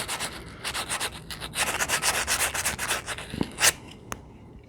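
A Grizzly cabinet belt sander lightly sanding metal gives a close, rhythmic rubbing and scraping, rising and falling in short strokes, ending with a couple of sharp clicks.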